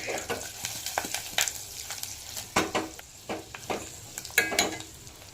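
A spoon scrapes and stirs eggplant frying in a pan with coriander, with repeated irregular scraping strokes over a soft sizzle, close and clear.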